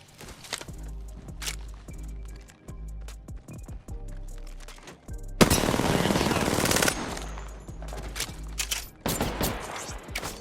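Automatic gunfire from an Apex Legends match, rapid bursts rattling through game music and effects, with a loud dense burst of hits in the middle and more shots near the end.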